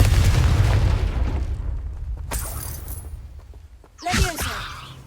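A Confringo fire spell explodes in the Hogwarts Legacy video game as a loud, booming blast that fades into a rumble, followed by a short burst of crackling, sizzling magic effects.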